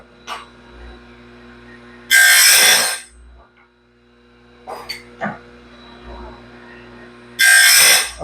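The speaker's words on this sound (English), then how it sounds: "I'm grinding these at 7 degrees" A grinder sharpens a sawmill band blade at a 7-degree angle, giving two loud, harsh bursts of grinding separated by quieter gaps with faint knocks and clicks.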